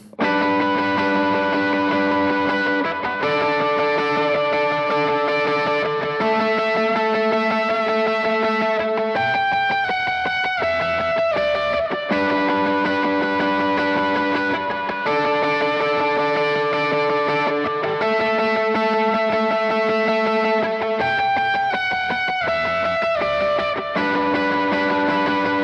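Electric guitar heavily processed with distortion, echo and chorus plays a sustained, layered part from a worship song, steady and loud throughout with shifting chords and a descending melodic line.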